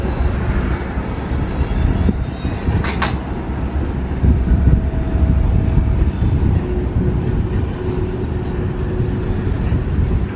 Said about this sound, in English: This train is pulling out right now.